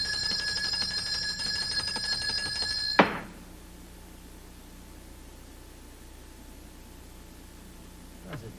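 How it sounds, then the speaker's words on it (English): Bell rung to summon a boy, in a 1981 Sherlock Holmes drama: a continuous bright electric ringing that stops abruptly with a sharp click, leaving a quiet hum, then a brief faint click near the end. "Then we will try the bell once more"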